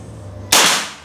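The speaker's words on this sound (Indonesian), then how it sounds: "tembakan kedua juga kena" One abrupt, loud report from a Bocap Hacker 500cc double-tank PCP air rifle, heard close with a short fading tail after near silence.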